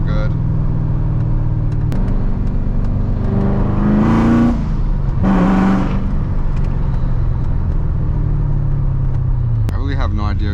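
A manual Corvette C7 Z06 engine rumbles loudly while driving, with two sharp rev-matching blips on downshifts midway through and engine noise continuing throughout.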